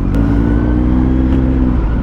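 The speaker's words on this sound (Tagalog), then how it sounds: "Ay, traffic pala dito." Road traffic with cars passing close by, a loud steady engine drone and rumble that continues throughout with no break.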